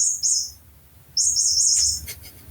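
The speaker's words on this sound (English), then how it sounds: "my cat brought this little chirpy toy into the space to be with us" A cat's small chirpy toy gives two bright, high electronic chirping bursts a moment apart, close and fairly loud over faint low background hum.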